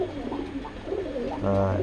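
Pigeons coo softly nearby, a low throaty burbling that swells louder toward the end, with a voice faintly underneath.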